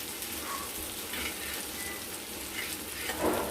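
Onion, ginger and garlic pastes frying in a pan make a steady, close sizzle that hisses evenly throughout, with faint stirring scrapes rising briefly near the end.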